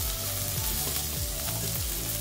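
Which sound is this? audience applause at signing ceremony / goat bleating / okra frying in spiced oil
okra frying in spiced oil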